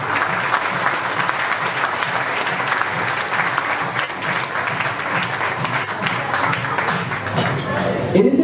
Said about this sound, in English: let us give everyone again a big round of applause